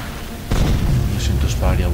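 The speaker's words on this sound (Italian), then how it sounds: "Sento spari a vuoto." Heavy booming gunshots in Unreal Tournament burst out after a brief quiet start, a few loud reports over rumbling noise, with a voice briefly audible.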